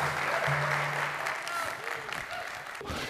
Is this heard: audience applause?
yes